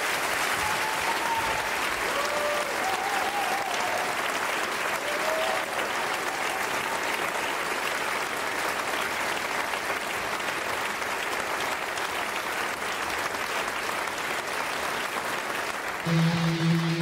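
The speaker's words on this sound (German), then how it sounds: "applaus für dich" Long, sustained theatre applause after a cabaret performance by Alfred Dorfer, a dense, even roar of clapping from a large audience lasting the whole time, with faint whistles and a brief tone near the end.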